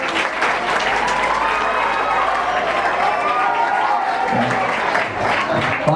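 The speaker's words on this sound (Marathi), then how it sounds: "टाळ्या वाजवा जोरात" Loud, steady applause from a school audience at a Mumbai high school's foundation day celebration, dense clapping sustained throughout with crowd murmur and a few voices underneath.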